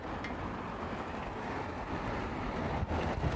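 Steady wind roars across the microphone in Kongens Have, a park in Copenhagen, a broad continuous rush that swells slightly toward the end, with no voices.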